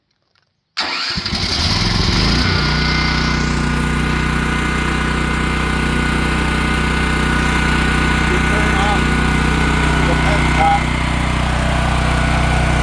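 A Champion dual fuel generator cranks over and catches, then settles into a loud, steady running drone close by for the rest of the stretch.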